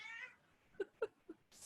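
A cat meows three times in short, soft, quick succession, faint and close, in an otherwise quiet indoor space.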